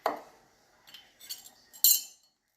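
A knife cuts a sandwich, making a few sparse metallic clinks and scrapes against a plate, close by with quiet gaps between them.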